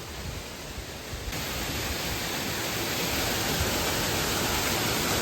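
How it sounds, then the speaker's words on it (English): Steady roar of a waterfall at Epcot, heard up close as dense rushing water that swells slightly louder and fills the whole scene without any voices. "There's a waterfall here."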